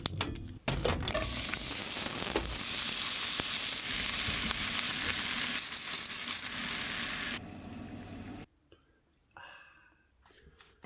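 Food sizzling steadily and loudly in a big lidded frying pan, used as a tagine, in a motorhome in Morocco's Sahara; a continuous frying hiss that drops off sharply near the end, leaving quieter clicks and low background sound.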